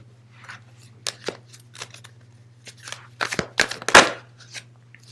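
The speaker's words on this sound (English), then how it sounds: "I'm just shuffling the cards" Tarot cards being shuffled by hand, giving a run of crisp riffling and slapping bursts that thicken toward the end, close and fairly loud over a steady low electrical hum, with no talking.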